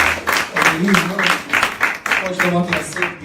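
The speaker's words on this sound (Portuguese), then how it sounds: "Aplauda mais uma vez, bem forte, Senhor." A church congregation claps in steady rhythmic bursts during worship, loud and close, while someone speaks over the applause.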